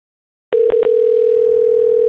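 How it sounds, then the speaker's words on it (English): Telephone ringback through a computer while calling a Ferrari dealership in San Diego: three quick pulses at the start, then a steady, loud, unbroken dial-style tone that holds to the end, with no talk. "I'm going to be a little bit more clever to make the phone call through my computer."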